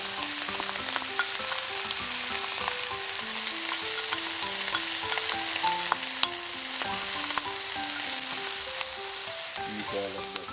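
Vegetables stir-fried in a hot pan for chicken fried rice give a steady, close sizzle throughout, with scattered light scraping and clinking from stirring.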